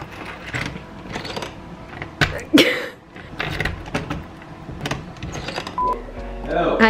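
A stuck door in a rental house is pushed and wrenched open, giving a series of thuds, rattles and a sharp creaking strain amid handling noise, while people talk nearby.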